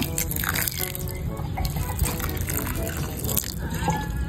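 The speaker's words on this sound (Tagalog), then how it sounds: "Ito po ay bubuhusan ko lang po ng mainit po na tubig." Hot water pours and splashes steadily into a container, with gurgling and trickling throughout.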